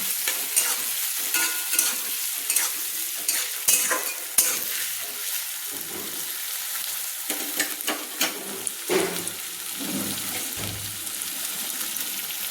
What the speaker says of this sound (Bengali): দিয়ে ভালো করে একটু নেড়ে নিলাম